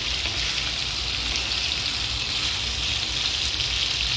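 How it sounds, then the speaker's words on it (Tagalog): Pork menudo meat browning in a pan gives a steady, even sizzle of frying that carries on unbroken throughout, close and fairly loud with no voices over it. "So hayaan lang natin siyang mag-brown yung itong karne."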